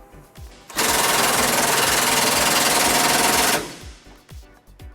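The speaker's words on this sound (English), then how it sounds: "Now we're going to tighten up both of those bolts to put our bumper back into place." A power impact tool tightens bumper bolts on a 2006 Ford Ranger during a trailer hitch installation: one loud, steady, continuous mechanical rattle of about three seconds, with quieter clanks before and after.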